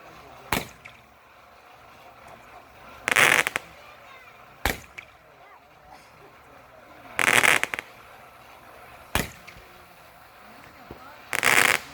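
Small fireworks pop and crackle outdoors on a hot evening. Sharp single bangs alternate with short crackling bursts at intervals of a few seconds against a quiet background.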